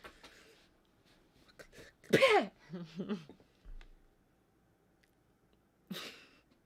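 A person makes a quick, snorting sneeze-like burst through the nose, followed by a few softer huffs and one more sharp puff, imitating an animal's sneeze.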